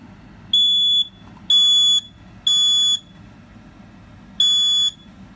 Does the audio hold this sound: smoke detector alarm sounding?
yes